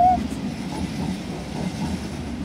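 A train at Den Haag Centraal station in the Netherlands rumbles low and steady, a continuous rolling drone with a brief high squeal at the start.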